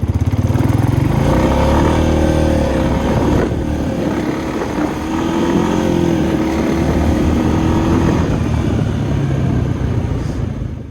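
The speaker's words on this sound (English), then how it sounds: "the motor and machine just hesitate as it goes to shift between first and second, and then second to third" A 2020 Jeep Wrangler Rubicon accelerates in automatic mode, its engine droning loud and steady from inside the cabin, the pitch rising and briefly sagging as it hesitates through shifts from first to second and second to third.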